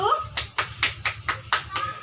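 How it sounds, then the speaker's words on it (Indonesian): A classroom of students claps for a group during a mathematics lesson, a handful of sharp, loosely rhythmic claps close by, mixed with children's voices. "beri tepuk tangan untuk kelompok 1"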